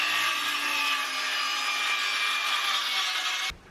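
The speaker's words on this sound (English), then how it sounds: "now I need to just cut those out. Probably combination of skill saw and jigsaw" A circular saw and jigsaw cut through wood for a castle bunk bed build, giving a steady, loud, close-up whine and rasp for several seconds before the blade stops abruptly near the end.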